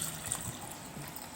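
Spiced buttermilk trickles and splashes as it is poured from one vessel into two clay pots, a soft, steady liquid stream heard close and quiet.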